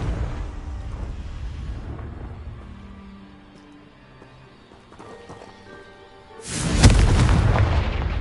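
A deep, loud burst erupts near the end as the Confringo fire spell explodes in Hogwarts Legacy, following a stretch of quieter ambient game sound.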